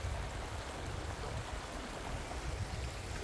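A clear mountain river flows steadily, giving a continuous broadband rush of running water with no voices, evenly loud throughout.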